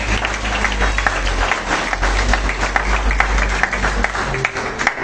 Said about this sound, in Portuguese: Exalte o Senhor com as palmas.